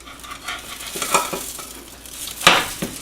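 A gluten-free sourdough pancake cooking in a buttered non-stick pan, a steady soft sizzle broken by a few light utensil scrapes and taps, with one sharper clink near the end.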